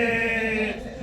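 A voice mimics an old-school building fire alarm bell with a brief, steady droning tone that holds for under a second, then fades.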